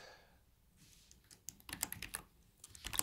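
Quiet bursts of keystrokes on a computer keyboard as CSS code is typed, sparse taps at first, then a quicker cluster of clicks, fairly close and soft.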